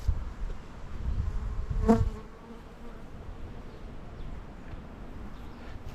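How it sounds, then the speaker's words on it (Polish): Honey bees buzz softly on cherry blossoms against a breezy outdoor background, with one flying close past and growing briefly louder before fading away. "Pszczoły na czereśni"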